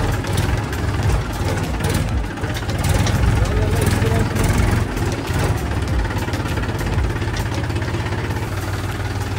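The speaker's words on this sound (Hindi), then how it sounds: "तो दोस्तों ट्रैक्टर चला रहे हैं हम" A farm tractor engine runs steadily close by at a worksite, its low, continuous rumble and idling throb holding through the whole stretch with slight vibration and no speech over it.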